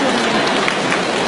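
A lecture audience breaks into loud, close applause, a thick unbroken burst of many hands clapping at once.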